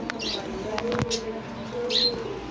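Fancy pigeons at a busy pigeon market coo softly beneath a steady crowd bed, with a couple of brief higher chirps and a sharp flutter or knock near the middle.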